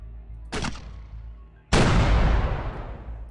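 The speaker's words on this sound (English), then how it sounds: "Let's try to artillery this one out." Artillery fire in X-COM: UFO Defense: a short sharp blast, then a much louder heavy boom that rolls on with a long decaying rumble, no talk over it.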